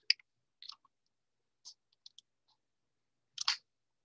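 Keyboard keys clicking while a formula is typed, a handful of sparse, close clicks in near silence, with a louder final press of the Enter key.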